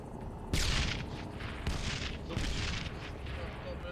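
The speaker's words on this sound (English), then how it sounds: "They just get hit with smoke artillery? Airburst smoke rounds of some sort." Airburst smoke artillery rounds from a military video game landing in a series of four heavy, distant-sounding blasts about a second apart, each with a hissing spread, under low background noise.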